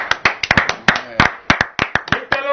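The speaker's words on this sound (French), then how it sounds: "On applaudit hein." A small audience clapping at a music show, sharp, close hand claps in an uneven rhythm of roughly a dozen distinct strikes, loud and mostly alone.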